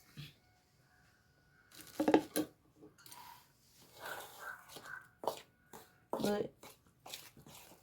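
Ragi flour stirred with hot jaggery syrup in a pot, heard as soft, intermittent scraping and spoon clinks in short bursts, faint and close, with a person talking between the strokes.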